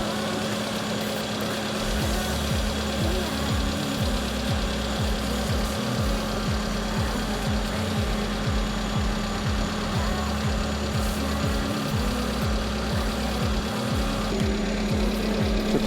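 Kei van engine idling close by during an air conditioning vacuum and refrigerant gas charge, a steady loud mechanical drone with a rhythmic knocking pulse throughout, no talking.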